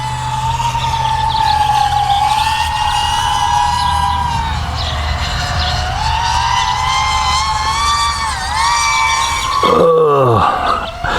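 An EMAX NightHawk Pro 200 drone runs its motors at full throttle, a loud sustained high whine that rises and dips in pitch, then shifts sharply near the end.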